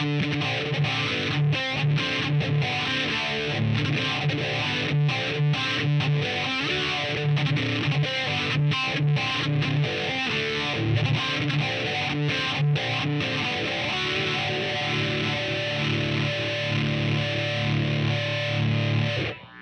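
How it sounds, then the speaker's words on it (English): Electric guitar through a Line 6 POD HD500x, with a crunchy overdrive and a sweeping phaser swirl, playing a continuous 80s-style riff at steady volume, no voices. "Here's what phase sounds when added to overdrive."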